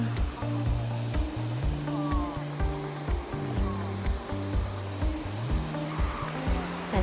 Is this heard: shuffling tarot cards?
no